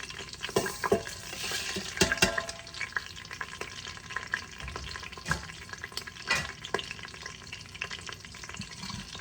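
Bay leaf, cinnamon, star anise, green chillies, garlic and dried red chillies sizzle in hot ghee inside an Instant Pot, a soft crackling fry broken by scraping stirs and taps of a utensil.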